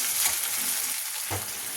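Chopped ginger with red and green chillies fry in hot oil, giving a dense, even sizzle close up, with a faint stirring scrape partway through and no talking.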